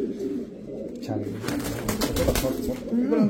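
Foreign racing pigeons cooing at close range in a loft or pen, soft repeated throaty coos running under someone talking.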